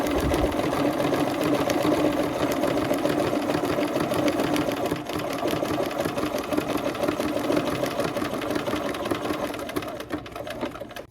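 A sewing machine stitches quilt blocks together at a quarter-inch seam, running in a fast, steady whir of needle strokes for about ten seconds, close and loud, then slowing to a stop.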